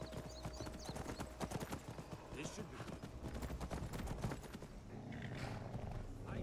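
In modded Skyrim, rapid clip-clop of horse hooves at a gallop, dense and rhythmic, mixed with rumbling noise and talk in the background.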